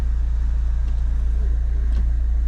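An Opel Astra H 1.7 CDTI diesel idles with a steady, low, pulsing rumble after its dual-mass flywheel and clutch were replaced, close by and continuous, with no voices.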